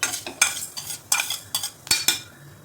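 Fenugreek seeds roast in a spoonful of oil, stirred with quick metallic scrapes and clinks against the pan over a light sizzle, close and fairly loud in short irregular bursts.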